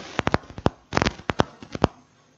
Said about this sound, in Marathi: फटाके फुटत.